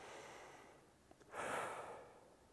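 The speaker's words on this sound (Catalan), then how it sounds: "Respirar profundament." A single deep breath drawn in close to the microphone, a soft rushing inhale lasting about half a second after a quiet pause, with no talking.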